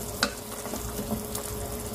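A pot of sopas soup with macaroni bubbles and simmers on the stove, a soft continuous sizzle with faint pops, heard up close with no talking.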